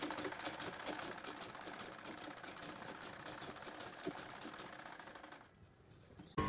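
A sewing machine stitching a blouse runs in a fast, steady mechanical whirr close by for about five seconds, then stops abruptly and leaves near silence.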